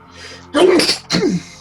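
A single close, loud sneeze in two bursts, a sharp intake and then an explosive release, in a quiet indoor setting.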